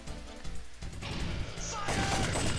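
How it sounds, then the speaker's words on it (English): Cannons firing in the 1995 Namco arcade shooter Time Crisis, bursts of blasts and crashing impacts that build in intensity, ending in a loud, dense barrage. "Oh yeah, watch out, these cannons are gonna shoot at you."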